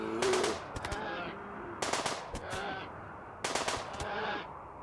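Machine pistol gunfire from the video game Rimworld comes in three short rapid bursts spaced a second or so apart, crisp and fairly close, with quieter game sounds between them.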